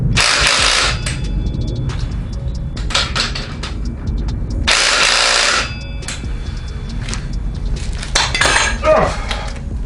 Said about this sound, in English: Then having a little power tool